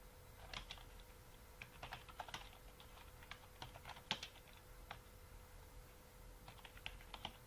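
Quiet, steady typing on a computer keyboard: a run of soft, close key clicks in uneven bursts with brief pauses, and no voices over it.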